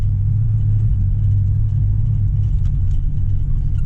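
A first-generation Toyota 4Runner engine idling and crawling off-road in first gear, with a steady low rumble heard up close and alone.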